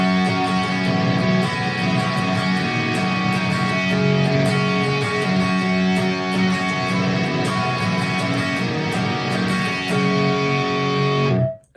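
Electric guitar playing a repeating riff through a distorted, saturated amp tone, dense and loud, with picked accents throughout, alone and close, cutting off abruptly at the end.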